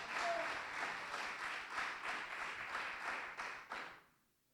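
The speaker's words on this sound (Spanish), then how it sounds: "Bríndele un abrazo, un aplauso a Jesucristo." A church congregation claps together in a Spanish-language service, steady applause with a few distinct louder claps near the end before it fades out.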